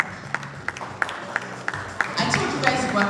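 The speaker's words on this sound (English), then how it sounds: "I told you guys you were clapping, and then your claps now started shaking" Audience clapping at an on-stage unveiling event, heard as a steady bed of crowd applause with sharp individual claps popping through, growing denser and louder toward the end.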